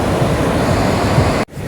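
Loud, steady sea surf rolls and washes beside Galle Fort in Sri Lanka, a continuous roar of breaking waves with wind buffeting the microphone and a brief dropout near the end.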